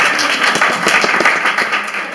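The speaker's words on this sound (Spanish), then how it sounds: "un aplauso" Audience applause for a woman modeling an outfit on stage, a short burst of close, loud clapping with individual claps audible.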